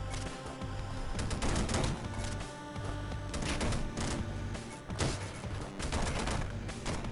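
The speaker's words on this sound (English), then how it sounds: "the machine gun is a faster acting version of the basic gun" Rapid, dense machine-gun fire sounds in the pixel-art video game Downwell, continuous bursts of quick shots playing at moderate volume with no talk.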